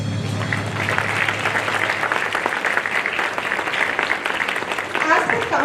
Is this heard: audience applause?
yes